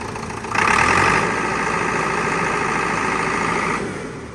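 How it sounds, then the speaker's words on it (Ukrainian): A freshly overhauled, still-cold YTO NLX1054 engine idles, then is revved hard for about three seconds with a raised whine before settling back toward idle, close and loud with no talk. "Ось двигун працює рівно. Дай газку."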